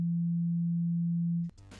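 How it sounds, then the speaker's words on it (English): Steady pure sine tone played from an Android app, holding one low pitch unbroken for about one and a half seconds before cutting off abruptly into brief faint clicks and noise. "and also play the sine wave."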